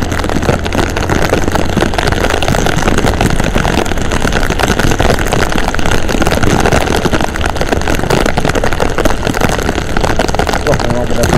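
A motorcycle engine roars loudly and steadily while splashing through deep flood water on a housing estate street in Manado, with a voice talking over the noise throughout.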